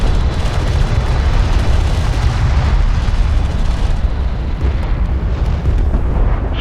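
Heavy rumbling explosions as strike craft are destroyed in Homeworld: Deserts of Kharak, a loud continuous wash of booming blasts and battle noise throughout.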